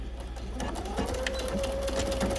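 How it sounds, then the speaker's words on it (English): A sewing machine stitches a seam on a button-down shirt, a close, steady mechanical whir with a rising motor tone as it speeds up. "And I'm gonna sew on that line all the way down again."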